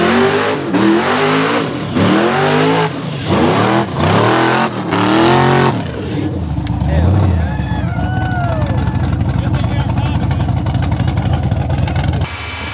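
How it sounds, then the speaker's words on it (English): A rock bouncer off-road vehicle engine revs hard in a muddy trail, repeated loud rising and falling roars close by, followed by a sustained strained drone as it churns through mud, with voices talking over it. "That motor sounded real stock that time."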